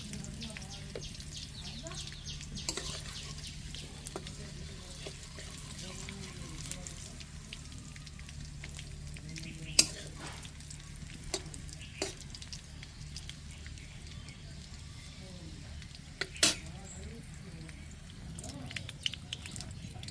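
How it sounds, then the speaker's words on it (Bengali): Green chillies and bay leaves frying in hot oil for a tempering in a village kitchen, a faint steady sizzle with occasional crackles and pops, with a voice speaking over it at times. "এবার ফোড়নের জন্য আমরা লঙ্কা এবং তেজপাতাগুলো ভেজে নিব"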